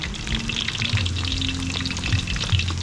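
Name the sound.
food frying in a pan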